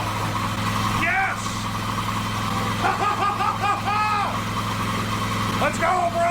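A running engine leaking exhaust into an indoor room idles with a steady low rumble throughout, while several voices laugh and shout over it.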